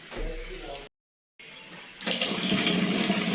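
Water gushes steadily from a bathroom tap after a brief silence, a loud continuous hiss filling the space, preceded by quieter rustling.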